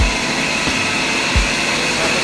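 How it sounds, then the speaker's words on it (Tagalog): A blower runs inside a ship's tank near the starboard rudder, giving a loud, steady roaring whoosh throughout with a few dull low thumps underneath and no talking. "Maingay yung aming blower."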